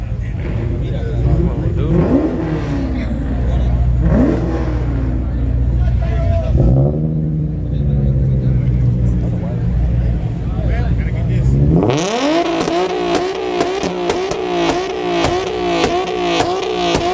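Car engine revving hard at a busy evening car meet, the black 350 up first, rising and falling in repeated throttle blips with a sharper, louder burst near the end, over crowd chatter.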